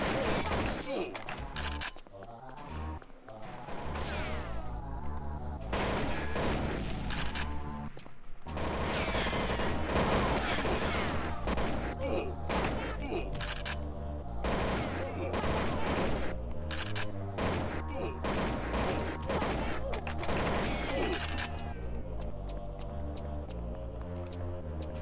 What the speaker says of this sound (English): Is that the drum guns from Perfect Dark?